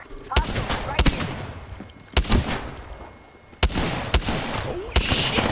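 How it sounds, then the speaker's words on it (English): Bursts of gunfire in Apex Legends, sharp loud shots fired in quick clusters with short pauses between volleys, some rapid automatic strings, close and punchy. "Getting shot at."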